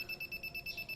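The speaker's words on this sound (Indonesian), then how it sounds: "orang yang akan melewati di bawah 100 cm maka akan membunyikan alarm" An automatic social distancing detector alarm sounds as someone comes closer than 100 cm, giving a rapid string of short, even electronic beeps, about eight in a second, fairly quiet and steady.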